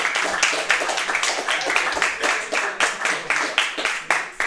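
A crowd at a speedrun event gives a steady round of applause, a dense, continuous patter of many hands clapping that stays at a constant level throughout.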